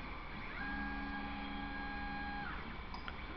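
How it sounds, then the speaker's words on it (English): A 3D printer running at an install fest, steady stepper-motor whine with sustained tonal hums that hold, then shift and cut off, over a constant room-noise bed, no talking. "Steve, you got your 3D printer all booted up?"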